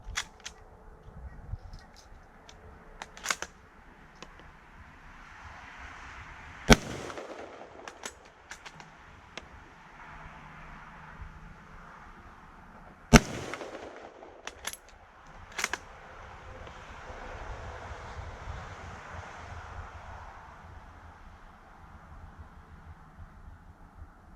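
Two loud, sharp rifle shots of Greek and Turkish 8mm ammunition ring out several seconds apart at an outdoor range, with lighter clicks of the action being worked and handled between them.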